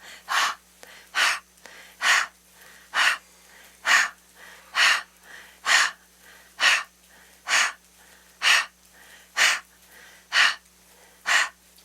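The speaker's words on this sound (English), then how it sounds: "So it's a mouth exhale" Steady, forceful exhales out through the mouth during a gentle breathing exercise: about thirteen loud, close breaths at an even pace, each a short airy rush separated by quiet pauses.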